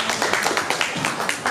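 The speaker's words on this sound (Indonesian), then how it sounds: "Wih, tepuk tangan." Classroom applause from a group of students, brisk and dense clapping that stays steady and fairly loud for a moment, close by, with voices mixed in.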